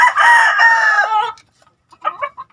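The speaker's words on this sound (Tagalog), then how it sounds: "narinig nyo guys now, napakaangas na kanyang manok" A veteran fighting rooster crows loudly and close by in a backyard, one long strained call followed by a short clucking burst after a pause.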